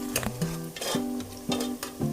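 Onions cooking in ghee with kasuri methi for peas pulao are stirred in a pan, giving a steady sizzle with repeated scraping strokes of a spoon, close and moderately loud.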